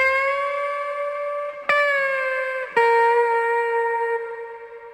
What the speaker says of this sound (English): I found this guitar bend